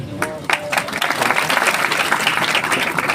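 A church congregation claps loudly, a dense burst of applause that builds after a brief voice at the start and continues steadily to the end.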